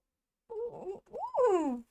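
A human voice imitates a horse whinny: a brief rising call, then a wavering, descending neigh, short and close with silence around it.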